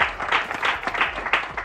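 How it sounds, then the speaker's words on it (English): Steady applause from a crowd at a school graduation, many hands clapping continuously with slight swells in loudness, no voices on top. "give a round of applause to the teachers for the excellent work they've done"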